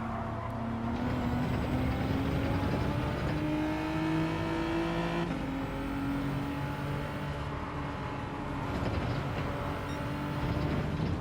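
A Genesis and a Nissan drag racing down a straight in Gran Turismo 7, with loud, close engines droning and revving at full throttle, their rising pitches shifting as gears change, continuous throughout.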